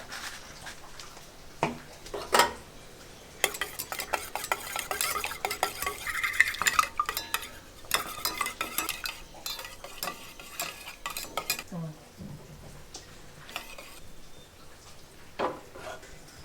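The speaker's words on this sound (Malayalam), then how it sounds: "ഉപ്പും കുരുമുളകും ചേർത്ത് മുട്ട നന്നായിട്ട് അടിച്ചെടുക്കണം" Eggs whisked with salt and pepper in a bowl for a noodle omelette: rapid, dense utensil clatter against the bowl in long bursts with brief pauses, close and alone.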